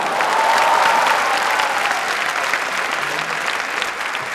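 Loud, dense applause from a talent show audience on a Turkish TV stage, sustained and even, close and strong throughout with only brief faint voices.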